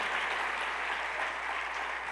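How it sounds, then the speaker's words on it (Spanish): A church congregation applauds during a sermon, a dense, steady wash of many hands clapping together, moderately loud and continuous with no voices on top. "le diera ese aplauso fuerte al Señor"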